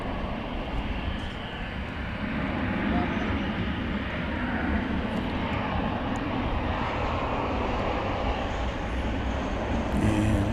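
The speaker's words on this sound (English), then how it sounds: "About ready to take off is Flight 1031, American Airlines." American Airlines Airbus A321 taking off at DFW, heard as a sustained, broad jet engine roar at a distance that stays steady and fills the scene throughout, with a voice talking over it.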